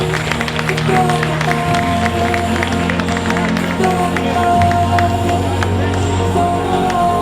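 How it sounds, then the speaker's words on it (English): Crowd at a Dreamhack Winter 2022 cosplay stage show applauds and cheers steadily for a cosplayer, the clapping dense and continuous over booming hall sound and a voice on the speakers. "A big round of applause for Emma G Cosplay."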